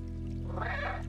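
A cat meows once in the video game Stray, a mid-pitched cry rising over a steady hum of game music and ambience, alone without talk.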